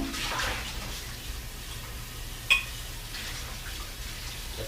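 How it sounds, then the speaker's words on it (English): Tap water runs steadily while ginger is rinsed off in a kitchen during smoothie cleanup, a soft continuous splashing with one brief clink partway through, fairly faint and with no talk. "let's rinse this off real quick"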